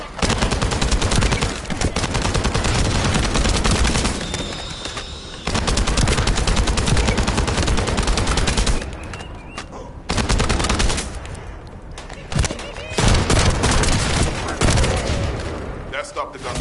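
Rapid automatic gunfire from The First Descendant game rattles in loud, dense bursts with brief pauses, close and forceful, with voices mixed in among the shots.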